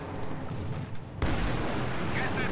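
Artillery from an SU-76 in the Company of Heroes 2 strategy game booms with a heavy, rumbling blast, and loud, sustained noise of the shelling follows.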